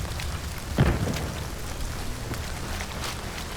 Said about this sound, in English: at different times the rain will start to pour, greatly reducing visibility and the ability to hear sounds